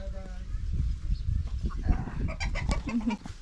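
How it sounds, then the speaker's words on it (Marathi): Chickens clucking nearby amid farmyard noise, with people talking over them. "कोंबड्या बघ कोंबड्या आपल्या कोंबड्या कुठे गेल्या"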